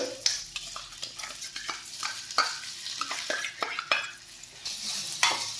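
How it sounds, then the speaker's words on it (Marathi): Ground rice stirred and fried in a pan for kheer, following fried almond slivers, gives steady close scraping and stirring strokes over a soft continuous sizzle, with no talk. "तांदूळ अर्धा मिनिट परतून घ्यायचे आहेत, त्यामुळे आपले कच्चा वास तांदळाचा निघून जाईल।"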